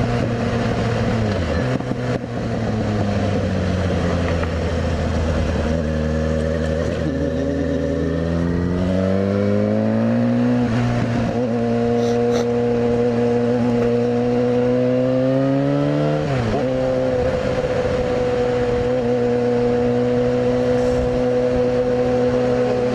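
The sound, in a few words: Yamaha FZ6R motorcycle engine while riding at 4,000 RPM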